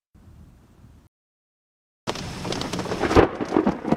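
Thunderstorm with rain at the Kennedy Space Center on a stormy day: a low rumble of thunder, a second of silence, then loud, dense rain hissing and crackling with heavier bursts, close and continuous.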